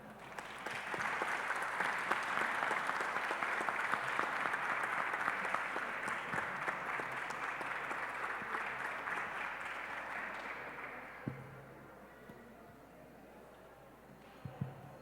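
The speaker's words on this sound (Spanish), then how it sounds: "Julio Satarán y el escritor Rodrigo Ramírez, para quienes pido un fuerte aplauso." Warm applause from an audience at a book presentation, sustained clapping that slowly fades over several seconds before giving way to quiet room noise.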